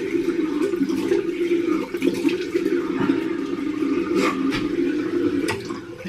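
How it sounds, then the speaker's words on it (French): Water running steadily at a bathroom sink during an evening routine as someone splashes it on their face, a constant close rush with faint splashes and drips, no voices over it. "Là pour le coup je me passe un vrai coup de flotte sur la figure."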